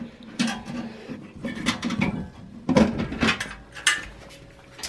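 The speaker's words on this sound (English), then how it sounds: "You're gonna move the two thumb screws here." Thumb screws and the side panel come off an HP Compaq Pro 6200 desktop PC case, heard as close, scattered metallic clicks, scrapes and rattles of handling, with no speech.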